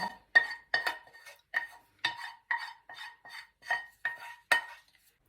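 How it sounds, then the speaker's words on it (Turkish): A spoon stirs a dough mixture in a bowl for Karaköy poğaça, about a dozen sharp clinks and scrapes of metal against the bowl in a steady, fairly even rhythm, close and clear with no talk. "Şöyle kaşıkla karıştırıyorum."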